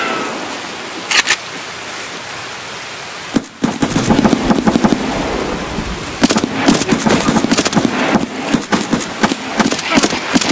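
A grenade blast and gunfire in Escape from Tarkov: a few sharp cracks open the scene, then a heavy boom hits and a fast, irregular volley of loud shots follows, crackling close by.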